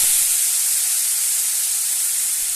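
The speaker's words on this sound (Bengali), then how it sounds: "এইবার কড়াইতে তেল দিয়ে দেখো শাকটা আগে ধুয়ে দিলাম" Washed leafy greens dropped into hot oil in a wok give a loud, steady, close sizzling hiss that fills the whole stretch without pause.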